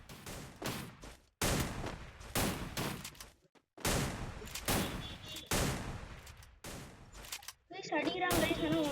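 A mobile shooting game fires bursts of rapid gunfire, loud repeated volleys broken by short gaps, with a few game sound effects near the end.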